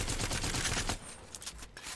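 Havoc rifle firing in a shooter video game, a dense sustained automatic burst for about a second, then scattered lighter shots and impacts, loud and close.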